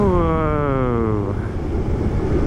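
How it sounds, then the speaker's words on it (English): Zero electric motorcycle fitted with a new Calfee Design motor accelerates, a steady whine rising in pitch for about a second before it drops away into wind and road rumble. "So the motor sounds different. You can tell like it's a little bit more high pitched"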